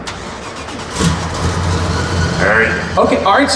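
A Toyota Camry sleeper with an aftermarket exhaust, 600 horsepower and a possible whine, starts up and settles into a steady, rumbling idle close by, while people talk briefly over the engine.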